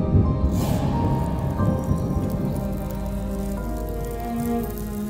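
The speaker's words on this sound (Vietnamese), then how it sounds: "Có tiếng sấm rền, sắp có một cơn mưa lớn rồi." Rain falls in an animated Vietnamese fairy-tale cartoon as a steady, dense patter and hiss of drops that fills the scene without a break, with no voices.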